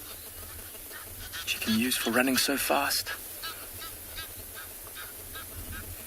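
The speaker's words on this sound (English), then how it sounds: "You might be able to hear some Egyptian geese in the background busy honking," Egyptian geese honk in a burst of loud, rapid calls in the middle of a sunrise safari at Tswalu, with someone talking before and after, the birds fairly close over a background hiss.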